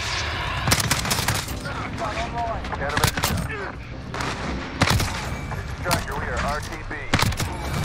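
Rapid bursts of CR-56 AMAX gunfire in Modern Warfare crack out repeatedly, sharp loud shots in clusters over game effects, with a player talking throughout.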